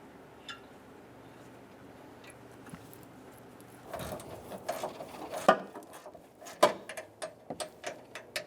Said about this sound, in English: Using a 10mm socket, we're going to remove the 2 bolts out of the lines going to the condenser